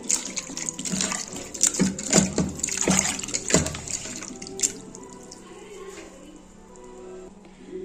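Pumpkin pieces are washed in water, with close splashing and running trickles in the first half that settle into quieter drips and faint movement.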